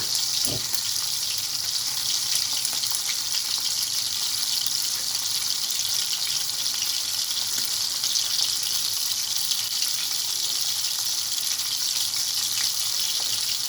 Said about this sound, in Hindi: अभी मछली हल्की सी फ्राई हो जाए, आधी तकरीबन आधी कच्ची पक्की हो जाएगी तो हम इसको निकाल देंगे